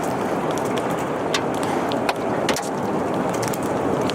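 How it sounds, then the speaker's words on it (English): A tornado roars through trees with a loud, continuous broadband rush and scattered sharp cracks and crackles, steady throughout without letting up. "Ones moving through trees, like this one here, get louder and can sound more like a jet engine."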